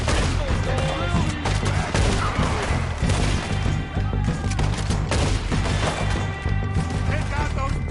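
Loud, near-continuous pistol gunfire rattles through a Red Dead Redemption 2 shootout at cabins, with dense overlapping shots and crashes under a busy game soundtrack.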